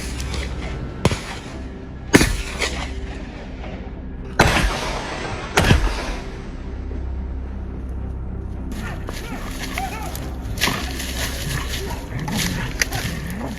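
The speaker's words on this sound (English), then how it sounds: "Gunfire rang out as a wild boar was shot down." Gunfire from a wild boar hunt, several sharp loud shots spaced a second or two apart with dogs barking and whining throughout, outdoors and close.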